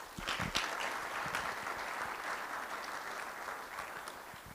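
A graduation ceremony audience at Guide Dogs for the Blind claps for the graduating class OR467, with dense, steady applause that holds evenly throughout and sounds slightly distant, with no talking over it.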